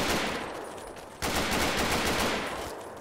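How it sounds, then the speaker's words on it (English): Rapid gunfire rattles in Fallout 3, a dense, loud burst of shots that cuts out briefly and then resumes just as intensely. "Yeah, stop shooting at me."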